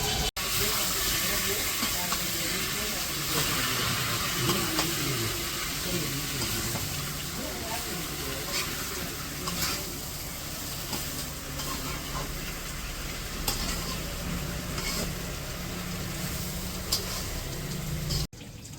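Dried fish and Malabar spinach cook with spices in a village kitchen, giving a steady sizzle and hiss with stirring and occasional clinks, and a voice speaks faintly at times.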